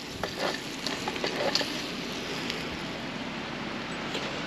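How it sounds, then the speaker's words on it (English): Steady, close sizzling and crackling of burgers frying in a pie iron, a dense hiss with small pops scattered throughout, no voices. "Hope you hear it sizzle."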